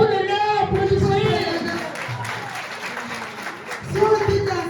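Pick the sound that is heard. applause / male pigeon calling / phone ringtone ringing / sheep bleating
applause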